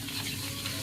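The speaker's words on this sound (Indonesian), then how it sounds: "Ibu lagi ngoseng." Nasi goreng rendang, a fried rice made with rendang, stir-fried in a pan, giving a soft, continuous sizzle with scraping and stirring noises, faint and close, heard alone.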